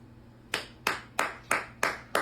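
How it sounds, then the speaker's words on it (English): Six sharp hand claps in an even, quick rhythm, each ringing briefly against a faint low room hum, with no talking. "Simon says to clap your hands"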